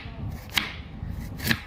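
Two quick, faint knife strikes land on a board while onions are chopped, spaced about a second apart over a low background murmur.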